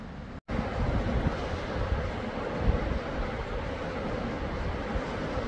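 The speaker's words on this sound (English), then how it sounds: "Bit breezy this morning." Steady wind gusting across an outdoor wild camp at an old WWII gun emplacement on a breezy morning, a continuous close rushing roar with a brief dropout near the start and no talk.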